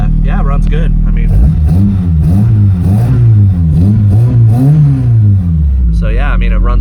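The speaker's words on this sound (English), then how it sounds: "There it is. It's idling." Toyota AE86 engine idling just after its first start, a steady low rumble running throughout with a wavering, slightly surging pitch, close and loud, with a person talking over it.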